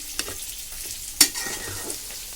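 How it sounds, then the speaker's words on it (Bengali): Taro leaves are stir-fried in a pan, with a soft sizzle under a few sharp scrapes and knocks of the spatula, one louder clack standing out among the quieter stirring. "এটা আসলে কচু শাকটা একটু ভাজা ভাজা এখানে করে নেব"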